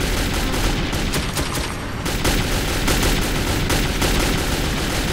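Gunfire in the game Metro 2033 includes a revolver shot, with dense, loud bursts of shots and booms layered over a constant roar of combat.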